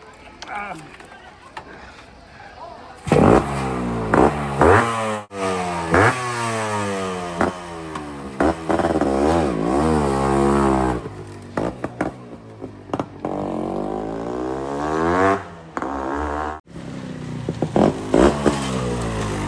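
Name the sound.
RX motorcycle being ridden, engine revving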